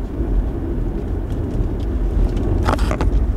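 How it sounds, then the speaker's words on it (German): A BYD Sea Lion 7 electric car accelerating gives a steady low rumble of road and motor noise from inside the cabin, with a short rise in higher noise near the end; no voices. "wenn ich Gas gebe, das ganze Auto zieht so nach hinten und nach vorne mit"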